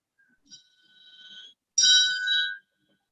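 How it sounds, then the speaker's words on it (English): A timing bell at a school debate competition rings twice: a softer, sustained ring, then a short gap and a louder, brighter second ring, with silence after. "at the 8th minute, the bell will be rung twice."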